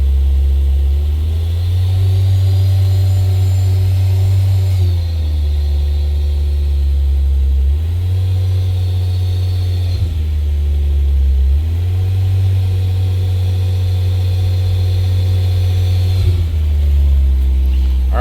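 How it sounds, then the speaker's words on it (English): An INEOS Grenadier engine climbs to wide-open throttle in repeated swells, each rev held for a couple of seconds and then dropped back, its loud droning pitch rising and falling several times with no talk over it. "hold the pedal down for 2 seconds at wide open throttle"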